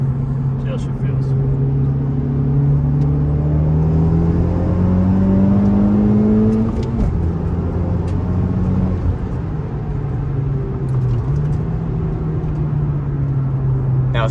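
A Honda Civic Type R engine accelerates steadily from inside the cabin, its loud, continuous drone rising in pitch through the gears and briefly dipping at a shift.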